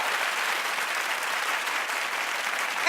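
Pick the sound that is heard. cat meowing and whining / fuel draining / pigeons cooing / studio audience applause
studio audience applause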